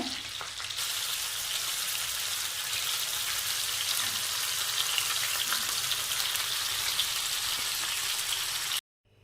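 Fish laid face down in a hot pan sizzles with a loud, steady, crackling hiss that runs unbroken until it cuts off abruptly at the end.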